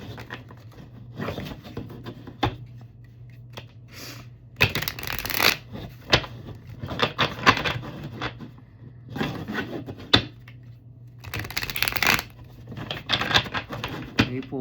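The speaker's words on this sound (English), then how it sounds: "Let me pull my cards out." A deck of tarot cards is shuffled repeatedly by hand in a quiet room. Riffles and rubbing shuffles follow one another in irregular bursts, with sharper flurries of snapping cards between softer sliding passages, close and fairly loud.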